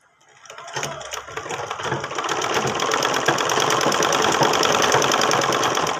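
A sewing machine stitches the V collar of a kurti, starting up and then running in a steady, loud, continuous whir with a fine rapid rhythm.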